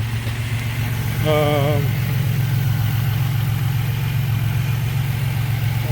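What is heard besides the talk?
Buick Grand National turbo engine cold start idling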